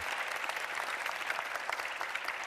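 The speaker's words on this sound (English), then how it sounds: "a big round of applause" An audience at a film award event gives a steady round of applause, dense and even clapping that holds at moderate volume throughout with no voices over it.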